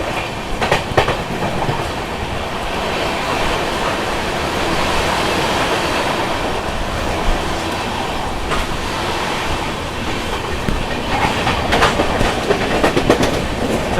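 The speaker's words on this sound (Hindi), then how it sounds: "विभूति एक्सप्रेस के साथ अपनी क्रॉसिंग हुई है।" Sampoorna Kranti Express running past the Vibhuti Express on a crossing in Bihar, with a steady loud rush of wheels and wind broken by rhythmic clickety-clack over rail joints, filling the whole stretch with no talk.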